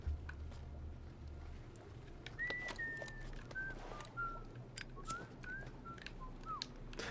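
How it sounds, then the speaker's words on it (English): Someone whistles a soft, wavering tune in short phrases inside a dark cave area in the Indiana Jones and the Great Circle video game, faint against a low ambient rumble. "Could you stop whistling?"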